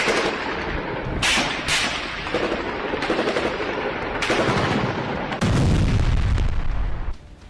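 Artillery and gunfire in combat at the Lebanon border, heavy blasts and rapid bursts of shots overlapping in loud, dense volleys, with a rumbling boom building near the end.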